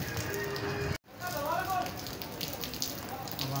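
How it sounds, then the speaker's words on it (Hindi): Rain easing to a light fall during a storm, a steady broadband patter with a momentary dropout, and faint voices underneath the drizzle. "हल्की हो गई अभी, वैसे हो रही है बारिश।"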